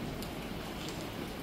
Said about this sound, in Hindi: बट तूफान के साथ बहुत गंदी बारिश, बहुत ज्यादा